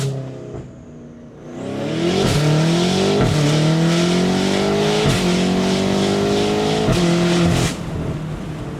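A 765 hp Stage 2 BMW M8 Competition accelerates hard, its loud engine note climbing steadily through four quick gear changes, each marked by a brief dip before the rising pull resumes, close and without talk.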